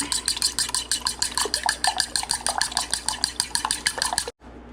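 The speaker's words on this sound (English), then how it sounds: "So we're gonna sprinkle a little bit up in the eggs. We don't want to make it too salty. So now we're gonna actually mix it." Lightly salted eggs being whisked in a bowl for a home-cooked breakfast, a fast, even train of clicking utensil strokes against the bowl, close and loud, stopping abruptly near the end.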